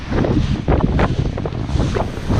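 Waves roll in at a black sand beach in Iceland, a loud rushing surf mixed with heavy wind buffeting the microphone, swelling and easing without pause.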